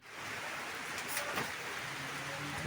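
Heavy rain drums steadily on a tin roof, a dense, even roar with no break, close and enveloping.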